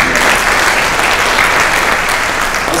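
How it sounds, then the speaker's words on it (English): Steady, dense applause from a crowd at a school district mental health presentation fills the whole stretch, loud and even without pause. "Give Lee a round of applause"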